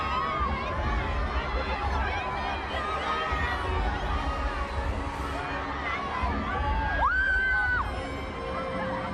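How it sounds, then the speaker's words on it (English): A dense crowd of fans screams and cheers continuously at a Harry Potter and the Deathly Hallows Part 2 film premiere, high shrieks rising over a loud steady roar, with a rising squeal near the end. "The screaming, the noise from the fans is phenomenal."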